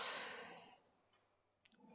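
Breathy exhale at the start of a reach movement during an exercise routine, a soft airy rush that fades over about a second, followed by quiet with small faint clicks.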